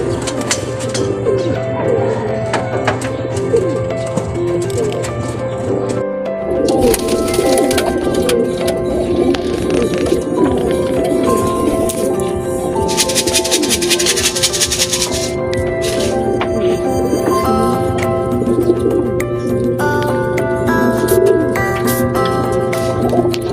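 Racing pigeons back at the loft after a 222 km race from Diadi, Nueva Vizcaya, coo in repeated soft, throaty phrases close by, steady throughout with some faint background clatter.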